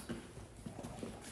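Faint hooves clip-clop in an uneven rhythm, three or four soft knocks against a quiet background.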